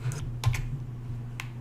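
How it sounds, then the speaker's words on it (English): A few separate keystrokes on a computer keyboard while an email address is entered, faint, sparse clicks spread over under two seconds against a steady low hum. "So in here you can just type in your email address"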